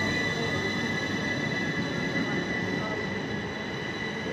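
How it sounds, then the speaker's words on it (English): A train rumbles steadily past at close range through Leighton Buzzard station, with a sustained high metallic squeal from the wheels over the constant roar. "Yeah, look, that's the train."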